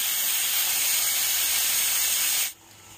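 A pressure cooker whistle releases steam in a sustained loud hiss while chicken pulav cooks, holding steady for about two and a half seconds before cutting off abruptly to near silence.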